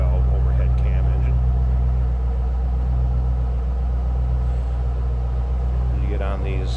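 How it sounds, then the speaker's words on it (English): A 2008 Ford Mustang Shelby GT convertible with a 4.6-liter three-valve overhead-cam V8 idles close by, giving a steady, deep, throaty exhaust rumble with no clear revving. "Nice, deep, throaty sound out of these"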